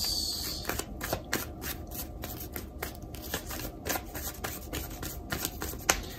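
Tarot cards being shuffled by hand, a quick run of crisp riffling flutters and soft slaps repeating in close succession, near and fairly quiet with no talk.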